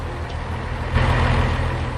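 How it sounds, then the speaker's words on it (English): Loud road traffic in the Farming Simulator 19 game, with heavy trucks and a bus rumbling past and a louder surge of engine noise about halfway through, and no talking. "Very, very, very loud traffic."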